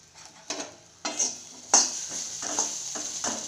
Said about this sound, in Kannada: ಮೊದಲು ಕಾರ್ಚಿಕಾಯಿನ ಹುರ್ಕೊಳ್ಳೋಣ